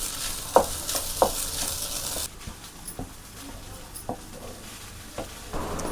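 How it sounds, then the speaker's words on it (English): Scrambled eggs being stir-fried into egg fried rice, a soft sizzle under sharp spatula knocks and scrapes against the pan, spaced every second or so. "Now I am going to add the scrambled eggs and mix it well."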